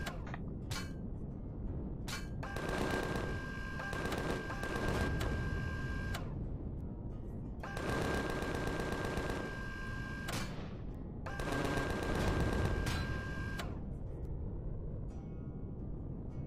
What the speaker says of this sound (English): Who's shooting from where?